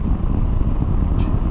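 A Triumph V85TT motorcycle rolls through bends with a steady, loud low engine rumble mixed with road and wind noise, and a brief hiss near the end.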